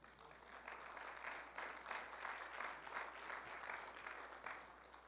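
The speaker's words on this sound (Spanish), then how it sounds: "Voy a darle un aplauso al Señor por eso." A crowd claps steadily in sustained applause, a dense even patter that stays moderately loud without fading.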